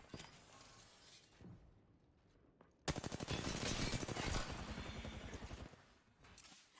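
Bursts of automatic gunfire during an Apex Legends match, a quieter stretch first, then a loud, sustained rapid volley lasting several seconds before tapering off.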